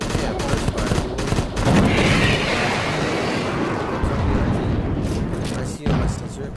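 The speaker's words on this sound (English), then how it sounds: "Yeah, burst fire, boy." Burst-fire shots from a weapon in the VR shooter Crashland VR crack in quick clustered volleys over game noise, with someone talking excitedly in between.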